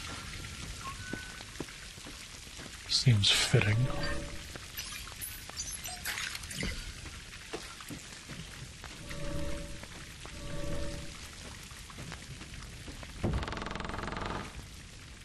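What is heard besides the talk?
rain in the video game A.I.L.A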